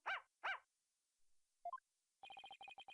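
Small dog in the Ace Attorney: Spirit of Justice video game gives two sharp yappy barks, then a short rising chirp and a quick run of electronic beeping blips, with no speech.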